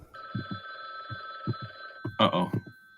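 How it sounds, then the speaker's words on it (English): A telephone rings in a game scene with a steady electronic ringing tone held throughout, while short low thumps fall under it and a louder burst of voices or sounds rises near the end. "that's the phone telling you that it's almost over"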